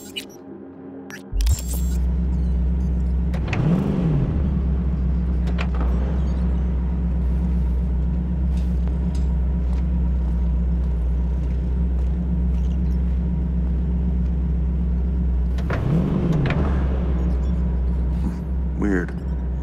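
Car driving in Cyberpunk 2077, a loud continuous low engine rumble with two rising revs, while game voices talk over it.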